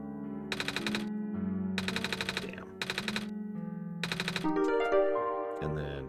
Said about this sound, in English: Scissors on metal can.